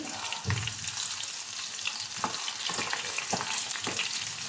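Onions frying in a pan for an Indian fenugreek-leaf and red lentil dish, a constant close sizzle with occasional stirring scrapes and soft clinks.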